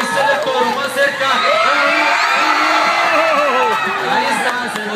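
Rodeo crowd in La Palma cheering and shouting loudly, a dense, continuous roar of voices and whoops close by, with someone talking over it.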